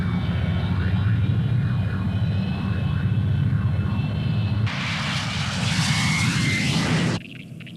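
Loud, steady roar of reconnaissance aircraft engines taking off, with a brighter high-pitched jet whine surging in partway through before the sound drops off abruptly near the end.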